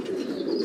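A homing pigeon coos close by in a soft, steady, low murmur that lasts under a second.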